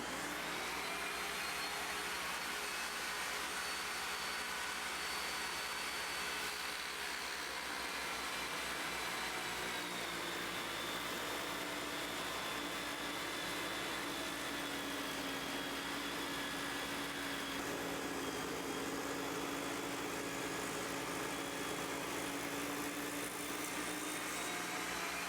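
A Skil TS6307-00 table saw runs steadily while cutting heavy wet wood, giving a continuous loud high whine with a slight pitch shift partway through, and no voices.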